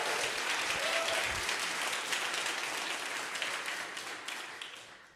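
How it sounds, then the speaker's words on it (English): Audience at an outdoor jazz concert applauds the tenor saxophonist with dense, sustained clapping that tapers off gradually near the end. "Please give a round of applause to Gladney on tenor saxophone."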